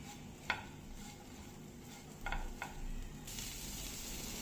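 Broccoli being stirred with butter, salt and black pepper in a hot pan, a soft steady sizzle with a few light clinks of a spoon against the metal, faint and close, with no talking.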